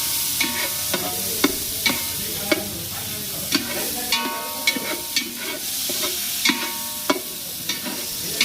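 Chopped tomatoes for sambar fry in a pan, sizzling steadily while a utensil scrapes and stirs them roughly once a second, each scrape a sharp clack over the constant hiss.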